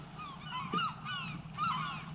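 Geese honk by a river in Alaska late at night, several overlapping nasal calls coming in two bursts against a steady low background rush.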